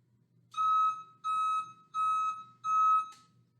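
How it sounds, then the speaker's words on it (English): A vehicle backup alarm gives four evenly spaced, loud, high-pitched electronic beeps, each about half a second long, against a faint low background hum. "we have power from our power source that's powering the reverse light and the backup alarm"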